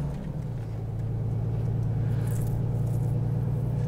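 A heavy truck engine in American Truck Simulator, cruising through Kansas, holds a loud, steady low drone that builds slightly and stays constant throughout, with no talking.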